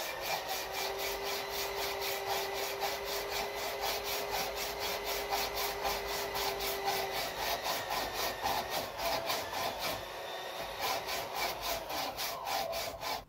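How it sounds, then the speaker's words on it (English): A hand saw cuts through the thin wooden bridges left between a row of drilled holes, giving quick, rhythmic back-and-forth rasping strokes, close and steady, with a brief pause before the strokes resume. "I only need to saw those little bridges."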